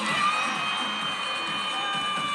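A crowd cheers and shouts loudly at a women's gymnastics meet between Oregon State and Utah, sustained high-pitched whoops and applause filling the arena.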